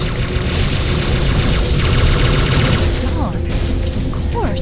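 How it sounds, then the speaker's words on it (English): Battle rifle gunfire in Halo 3 on a Legendary run, heard as dense, loud rapid bursts of shots and booms with chaotic combat noise throughout and no pauses. "Now I got a battle rifle to finish off all these guys here."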